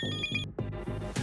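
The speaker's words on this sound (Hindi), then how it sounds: "फोन करूं तो वो उठाता नहीं है, अभी टें टें टें टें टें टें करके बज रहा है।" A telephone rings in short repeated electronic bursts, loud and close, with brief gaps between rings.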